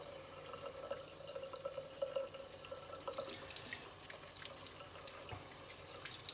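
Tap water runs into a sink while a roe deer ear is rinsed clean, a close, steady splashing stream with occasional drips and brief bursts of stronger spatter.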